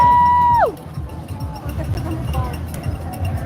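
Crowd noise at the finish line of the 2024 RBC Brooklyn Half Marathon, a steady low hubbub of cheering spectators that comes in after a brief tone fades out, with scattered shouts and voices.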